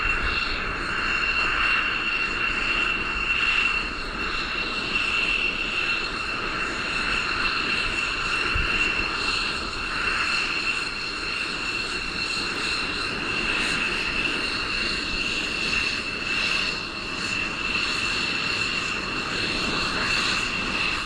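Belgian Air Force F-16 fighter jets fly by with a sustained, dense jet roar and a persistent high whine, loud and steady throughout with slight surges.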